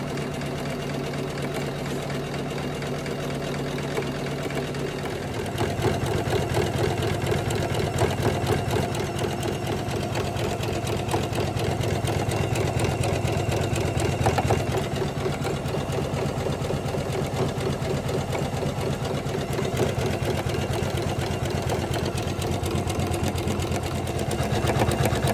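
A Janome 500e embroidery machine sews a satin stitch on a Halloween pillow, giving a steady, rapid mechanical whirr with a dense needle rhythm that runs throughout and grows slightly louder and deeper after a few seconds.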